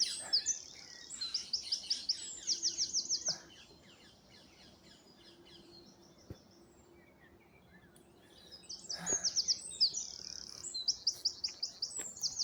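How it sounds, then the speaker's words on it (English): Parakeets and a crow call from an oak tree in East London, with two bursts of shrill rapid chirping separated by a quiet pause and an occasional softer call between. "I don't know if you can hear the parakeets."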